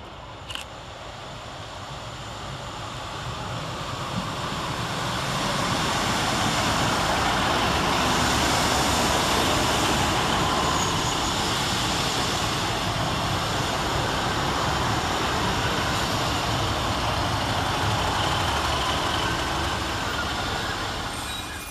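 Two coupled Northern Class 150 diesel multiple units pull into Woodsmoor station on a Buxton to Manchester Piccadilly service, a steady rolling rumble of wheels and engines swelling louder as they approach, with faint wheel squeal, and no voices.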